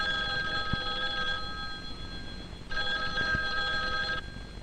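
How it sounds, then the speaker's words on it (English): A telephone bell rings in two loud, clear bursts separated by a short pause, heard alone and close. "One day, a telephone rang."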